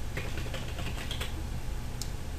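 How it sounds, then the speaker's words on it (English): Keys being tapped on a computer keyboard to type text into an image editor, a few soft, close clicks over a steady low hum. "So go ahead and type in your text"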